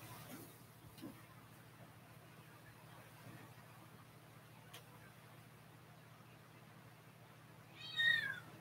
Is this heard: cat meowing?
yes